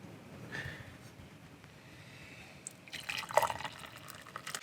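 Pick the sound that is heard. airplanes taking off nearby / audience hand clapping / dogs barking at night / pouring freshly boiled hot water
pouring freshly boiled hot water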